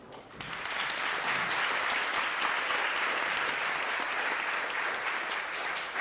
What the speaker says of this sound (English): I think we can give one more round of applause